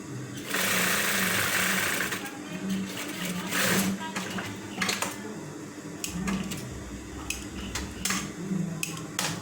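A sewing machine runs close by in bursts while stitching a men's shirt pocket, with a long whirring run, pauses and short stitch spurts, and someone speaking over it.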